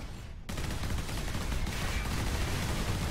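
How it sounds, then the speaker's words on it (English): Enemy gunfire in the video game Warhammer 40K Space Marine, a dense, continuous roar of shots that starts abruptly and stays loud throughout. "Obviously those things are pretty damn dangerous, but of course they don't shoot at my AI buddies. They only shoot at me."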